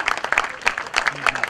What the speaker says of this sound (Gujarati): So huge round of applause for all of these brilliant literature prodigies